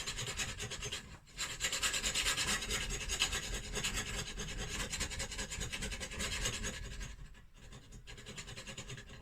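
A scraper rasps steadily against a wooden shutter, lifting off a sticker in continuous close, quiet rubbing strokes with a couple of brief pauses.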